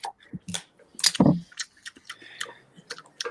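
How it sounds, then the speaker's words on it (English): A dog gnaws on a rubber toy, giving a run of irregular crunchy clicks and squelches at close range, with a louder burst of chewing about a second in. "that the sound of Arnold eating his dildo right now"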